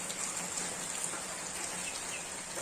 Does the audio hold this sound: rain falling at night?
yes